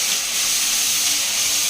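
Onions frying in a pan, giving a steady, even sizzling hiss that holds without pause, moderately loud and close with no talk over it.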